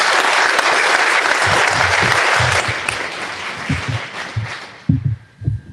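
Loud, sustained applause from a crowd at Ivy Tech Community College during a First Lady Jill Biden visit fills the room, then thins into scattered claps that fade out.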